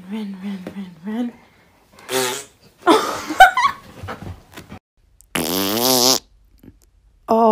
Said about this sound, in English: Oh, dude, did you just fart?